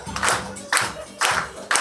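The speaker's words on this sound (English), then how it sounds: "Everybody clap your hands." An audience claps in unison, four loud, evenly spaced beats about half a second apart, with crowd murmur in between.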